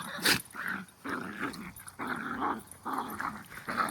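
Dogs growl and grumble playfully at close range in a steady run of throaty rumbles, with a few short yips mixed in.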